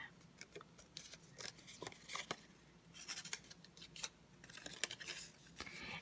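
Paper for a Halloween treat box being folded and creased: quiet, irregular crisp rustles and soft scraping strokes in close succession, faint and near, with no talk.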